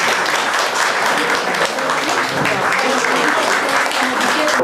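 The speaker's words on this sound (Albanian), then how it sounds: "Dhe duartrokitja është plotësim e jotja." An audience in Athens applauds after a documentary screening, with dense, sustained clapping that stays loud and even throughout, with no pauses.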